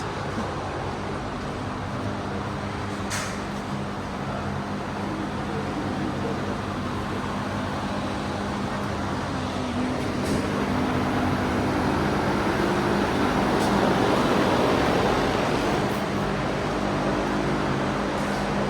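Electric fan running in a vehicle repair workshop, a loud, steady broadband whoosh with a constant hum that stays level throughout, with a few faint clicks on top.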